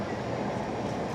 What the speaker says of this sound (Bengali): এই মুহূর্তে আমি দাঁড়িয়ে আছি টোকিওর শিনজুকু রেল স্টেশনে।